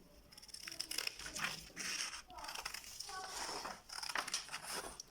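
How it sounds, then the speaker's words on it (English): Scissors cutting out a paper pattern shape for a slide shoe, with repeated quiet crisp snips and rustling of paper, close up, and soft talking at times. "So now let's quickly cut our main shape."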